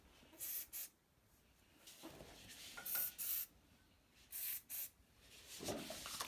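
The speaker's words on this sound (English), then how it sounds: "We're just gonna shake it up and spray it onto here." An aerosol spray can hisses in several short bursts, two quick sprays, then a pair, then another pair, close and fairly loud, with quiet handling between, while a weight plate rack is assembled.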